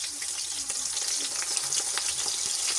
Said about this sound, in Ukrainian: Поки смажаться наші синенькі, ось дивіться, як вони.